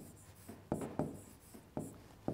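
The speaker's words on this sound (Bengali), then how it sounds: "তাহলে আমি শব্দটা একটু লিখছি" A word being written by hand during a primary-school science lesson, soft scratchy pen strokes with several sharper taps at irregular intervals, close and quiet, with no talking.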